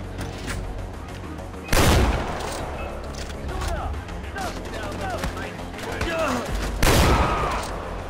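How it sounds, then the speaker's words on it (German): Shotgun blasts in the video game Far Cry 4, two heavy booming shots several seconds apart, loud and close over continuous game ambience and scattered battle noise. "ein Kopfschuss ist ja auch nicht schwer mit der Schrot"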